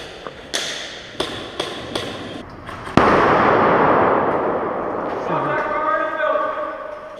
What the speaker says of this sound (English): See paint falling off the walls when these flashbangs are exploding.